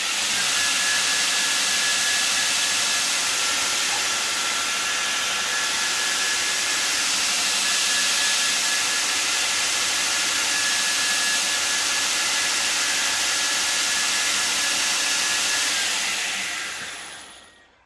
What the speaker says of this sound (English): It's a lot easier to demonstrate by switching on the grinder, which I will do now.